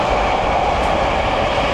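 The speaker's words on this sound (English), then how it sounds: "So that train, going past over the bridge and through the station, through the platform, has come from London" A train from London rolls over a bridge and through Potters Bar station platform, a loud, steady rumble filling the whole moment without pause.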